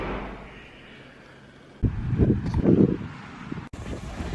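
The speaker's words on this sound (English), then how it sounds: "I don't even know if you can hear me because it's so windy." Strong wind at a beach buffets the microphone, first as a low rumble, then as loud gusty bursts that swell and drop for the rest of the clip.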